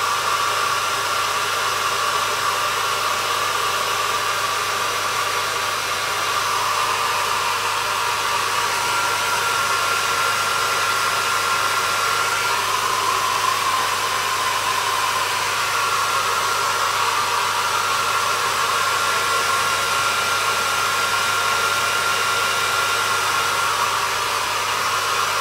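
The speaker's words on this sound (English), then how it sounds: "So let's use my hairdryer again for a few seconds." A hairdryer blows steadily on freshly applied lacquer, a loud, unbroken whooshing hum that holds at an even level for the whole stretch with nobody speaking.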